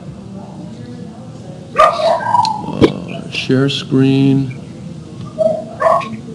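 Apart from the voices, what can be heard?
dog barking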